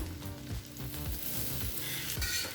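Eggs pepper-fry on a tawa with a continuous close sizzle, broken by a few scraping stirs and taps from a utensil.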